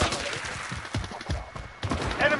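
Continuous, dense volleys of gunfire roll on without pause in a first-person shooter game, with a brief dip midway, loud and busy throughout.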